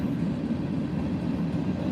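A train rolls past with a steady, dense low rumble that holds at constant loudness throughout, with no voices or distinct clatter over it.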